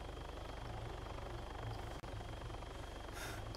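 A helicopter in an Arma II Altis Life game session gives off a steady, droning rotor thump throughout, and a brief dropout occurs midway.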